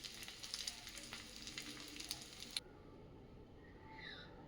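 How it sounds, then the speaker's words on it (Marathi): Bread toasts in a pan over medium heat, giving a faint, soft sizzle with light crackles that stops abruptly partway through, leaving a quiet room. "मीडियम आचेवरती आपल्याला छानपैकी दोन्ही साईडने खरपूस असं हे ब्रेड भाजून घ्यायचं आहे"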